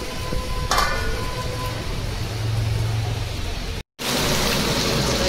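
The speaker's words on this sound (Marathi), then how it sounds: "आणि ह्या बाजूला आमच्या इथे असा पाऊस पडतो" Steady rain falls in a continuous broad wash of patter, broken by a short tone early on and a brief dropout near the end.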